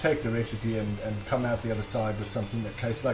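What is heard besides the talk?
No distinct noise like a dog, phone or traffic.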